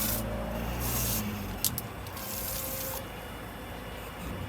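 Water from a 12-volt pump nozzle sprays onto a flowering plant, a steady hissing rush that runs throughout and dips briefly partway through.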